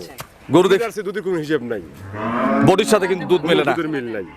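A pregnant dairy cow close to calving moos in a farmyard, several drawn-out, loud, near calls in quick succession, with people talking around it.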